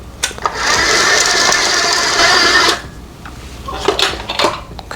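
Kitchen stand mixer churns a heavy cookie dough loaded with chocolate chips and candy, a loud steady whir for nearly three seconds before cutting off, followed by scattered knocks and clatter.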